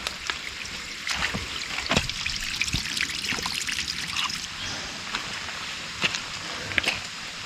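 Water trickles steadily at a jungle river's source stream, a continuous close babble with small splashes and gurgles running throughout.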